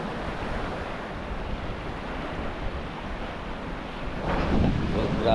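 Rough brown sea after Typhoon Carina, with surf washing in a steady roar under heavy wind buffeting the microphone and a louder wave surge near the end.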